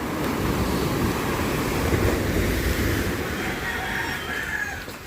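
Ocean waves surge and wash steadily for the whole stretch, loud and close, mixed with gusty wind noise on the microphone.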